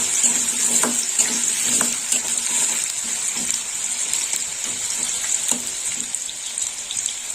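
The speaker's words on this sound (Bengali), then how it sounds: "আলুটা একটু নেড়ে দেবো" Potatoes frying in hot oil are stirred in a pan, with a steady bright sizzle and repeated scraping taps of the spatula throughout, close and alone.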